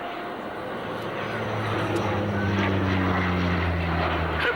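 A Dutch air force Fokker F-27 Troopship turboprop at an airshow display at Leuchars spools its engine back up after a turn, a loud continuous propeller drone with a rising, slowly shifting tone.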